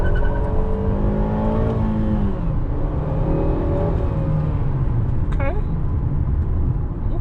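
Modded Acura RDX turbo accelerating on throttle, engine note climbing steadily through the gears with whirring turbo tone, heard from inside the cabin; a brief shift break partway through.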